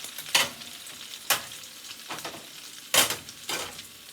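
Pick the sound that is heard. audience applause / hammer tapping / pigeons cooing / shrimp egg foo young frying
shrimp egg foo young frying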